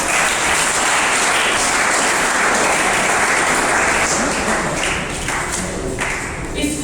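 An audience applauds at a school poetry contest (bait bazi) at a government secondary school in Sialkot: dense, sustained clapping from many hands that fills the whole stretch and tapers slightly toward the end.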